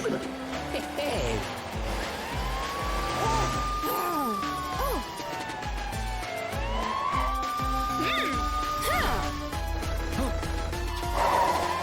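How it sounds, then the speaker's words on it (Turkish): A wailing cartoon police car siren rises and falls over a busy chase scene with crashes and thumps, and voices talk briefly over the din. "Aa, işte polis arabası Matilda Krokomil'i kovalıyor."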